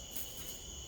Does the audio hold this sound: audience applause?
no